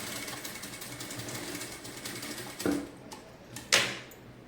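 A sewing machine stitches fabric in a tailoring class, running with a steady mechanical whir that stops and starts, with a couple of sharper clunks near the end.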